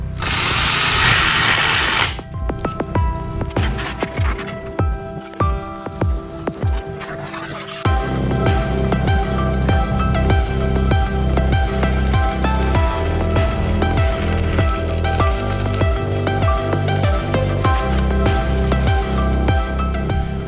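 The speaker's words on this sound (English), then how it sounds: "And now we're going to drill the holes." A power drill bores holes in galvanized metal at an off-grid farmhouse restoration, first in short bursts separated by pauses, then in a long continuous whine with clattering and grinding, loud and close.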